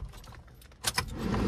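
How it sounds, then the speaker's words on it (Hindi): The ignition key goes into a 2023 Maruti S-Presso Vxi with a brief metallic jingle and a couple of quick clicks near the end, close and fairly quiet inside the car. "तो चलिए चाबी लगाते हैं।"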